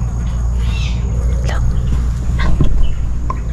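A bird gives a few short calls amid steady night background noise, while people talk quietly nearby.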